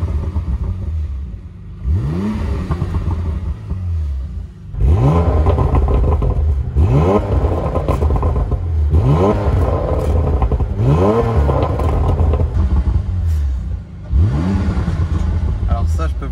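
A Porsche Macan Turbo engine starts and then revs repeatedly, each sharp blip rising and falling in pitch, loud and close, with several revs spaced a couple of seconds apart.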